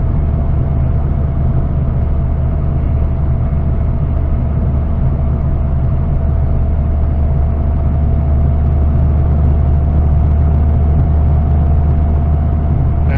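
A SAAB tuned with added boost cruises steadily, its engine giving a loud, continuous mid-low drone with a faint whine and road noise throughout, no talk over it.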